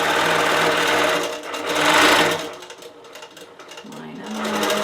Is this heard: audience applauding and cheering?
no